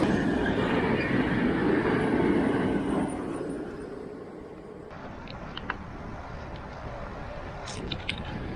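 A coal-laden freight train rolls past, a loud rumble of wagons with rattling wheels and occasional squeals that fades slightly as it continues, heard from nearby trackside with no talk.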